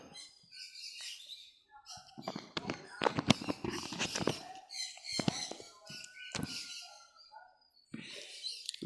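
Fischer's and rosy-faced lovebirds chirp and tweet in a dense chattering flurry at a weekly bird market in Garia, sharp calls close by with a person speaking among them.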